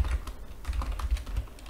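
Rapid, close clicking of keys on a computer keyboard, steady typing in short bursts during coding work, with no talking.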